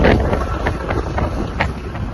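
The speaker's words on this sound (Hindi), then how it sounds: "बस ठंडी ठंडी हवा चल रही है" Cool wind gusting steadily across an open microphone outdoors in India, a loud broadband rush with soft swells throughout.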